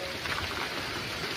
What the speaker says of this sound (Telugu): వర్షం నన్ను ముద్దడానికి వచ్చినట్టు వర్షం వచ్చి నన్ను ముద్ద చేస్తుంది.